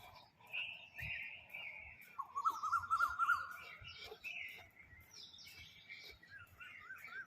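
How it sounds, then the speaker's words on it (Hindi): Morning birdsong outdoors: several faint, intermittent chirps and short trilled calls at varying pitches come from a moderate distance over a quiet background. "ये देखो चिड़ियाओं की आवाज़ आ रही है।"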